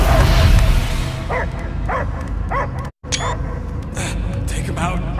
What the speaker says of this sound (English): I hear only barking.